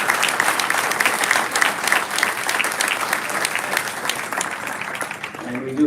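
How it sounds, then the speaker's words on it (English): Audience applause in a hall, a dense, loud burst of clapping from many hands with some voices mixed in, sustained for several seconds before fading as talk resumes. "we should give them a round of applause"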